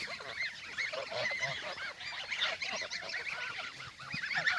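Geese on a farm honking continuously, a dense chorus of overlapping calls from many birds, fairly faint and steady throughout with no voices.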